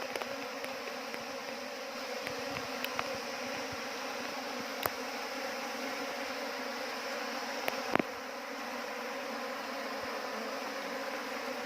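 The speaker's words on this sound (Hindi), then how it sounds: "मधुमक्खी इसके अंदर पूरा भर गया है" Swarm of Indian honey bees, Apis cerana indica, packed inside a box, a dense continuous buzzing hum that stays close and steady throughout with a few faint clicks and taps, no voices.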